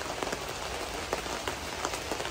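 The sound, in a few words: rain falling on a trailer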